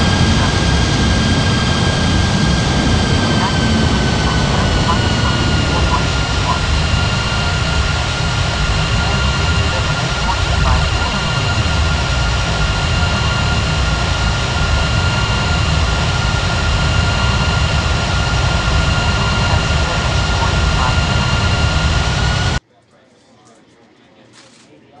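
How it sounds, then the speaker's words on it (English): An airliner takes off in an air traffic control game, its jet engine roaring loud and steady for about twenty seconds with a sustained high whine before it cuts off abruptly to quiet background. "Cleared for takeoff on 30 left."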